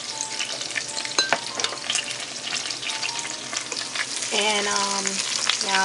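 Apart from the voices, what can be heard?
lobster tail cooking in a pan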